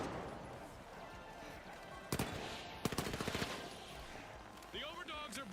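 Automatic turret fire in the video game The Finals: a sharp shot, then a quick burst of rapid gunfire rattling close and loud over a steady game background.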